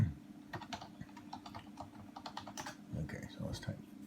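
Quick bursts of keystrokes on a computer keyboard while typing a web image search, close and fairly soft, with irregular clicks over a low background hum.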